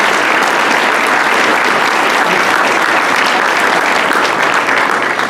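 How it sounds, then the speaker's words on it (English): Loud, sustained applause from an audience at a legal aid society gathering, honoring members of the San Manuel Tribal Court; the dense clapping stays constant throughout, with no talk on top. "So give them a round of applause."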